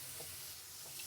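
Curry masala for a hurilikayi gravy frying and being stirred in a pan, a soft steady sizzle with faint scraping, quiet and close, no voices.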